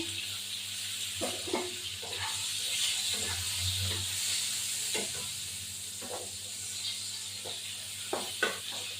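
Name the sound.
eggplant frying in a pan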